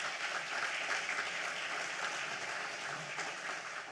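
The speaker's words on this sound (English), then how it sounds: "If you could give them a round of applause" Steady, dense applause from an audience honoring county commissioners at a sports hall of fame ceremony, loud and continuous for the full stretch with no break.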